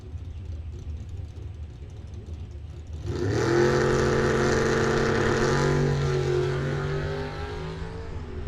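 Wild Thing Camaro drag car launching at Coles County Dragway bracket racing, its engine exploding from idle into a loud, sustained roar that climbs in pitch as it accelerates down the strip, then slowly fades.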